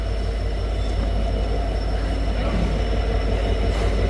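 A train pulls into Jaffna railway station in Sri Lanka with a loud, steady rumble of wheels on rails, high squealing wheels, and a constant low hum, heard up close from on board.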